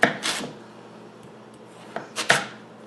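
Knife slicing a sweet potato into fry-sized pieces on a board, a few separate close cuts with crisp scraping strokes at the start and again near the end, quiet in between.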